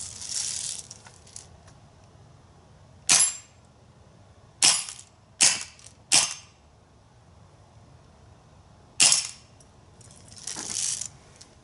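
An Umarex Steel Force BB-only full-auto rifle fires five sharp, snappy shots at irregular intervals, some close together. Fairly loud and near, with no voices, and a soft airy hiss at the start and end.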